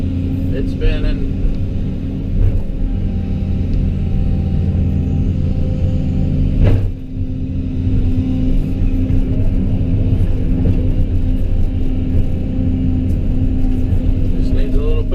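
A truck hauling brush sits stuck in snow with its engine droning loudly and its wheels spinning in a continuous rumble. Voices talk over it throughout.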